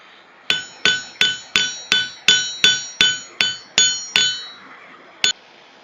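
Hot steel is hammered flat on an anvil to form a rivet tab for a griddle, eleven loud ringing blows in a steady rhythm, each with a bright metallic ring, then a pause and one final strike.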